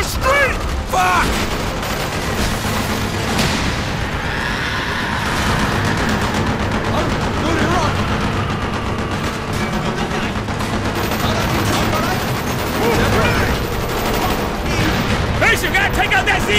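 Gunfire in the Call of Duty: Black Ops mission The Defector, with a tank fight in city streets. Steady bursts of shots and booms run throughout, loud and dense, with soldiers shouting over the battle.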